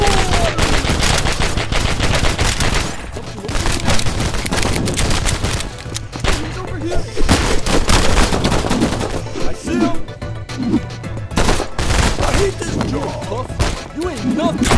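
Rapid bursts of automatic gunfire in the video game Killer Bean, dense and continuous over loud backing music, with the shots crackling steadily throughout.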